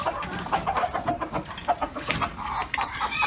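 Village hens and a small rooster cluck close by in a busy, overlapping stream of short calls, with no talking.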